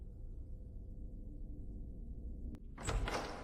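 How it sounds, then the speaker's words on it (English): A door opens near the end after a quiet low hum, a short click followed by a brief sliding rush and thump, with no one speaking. "The door opened."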